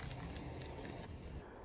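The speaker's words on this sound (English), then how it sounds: "You do not have to spray the whole branch down." Clear coat is sprayed onto a tree branch from a can, a continuous faint hiss lasting over a second before it abruptly cuts off.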